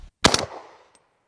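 A single suppressed shot from a 300 BLK rifle gives a sharp, close crack with a short decaying tail, followed by a faint metallic tick.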